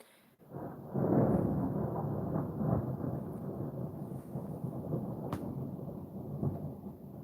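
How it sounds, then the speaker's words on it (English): Rolling thunder from a storm, a low, steady rumble that swells after a soft start and keeps grumbling for several seconds, fairly distant with no voices. "As you hear the thunder, should get some lightning out there at one point here."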